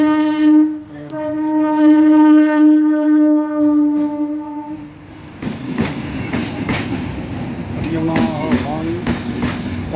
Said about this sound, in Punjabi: ਇੱਕ ਟ੍ਰੇਨ ਆ ਰਹੀ ਹੈ ਇੱਥੇ ਜੀ